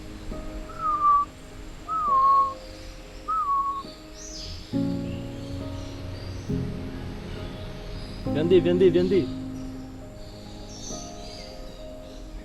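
Outdoors in Malaysia, a bird high overhead gives three short rising whistled calls in quick succession, fairly faint, followed by other chirps under murmuring voices and background noise.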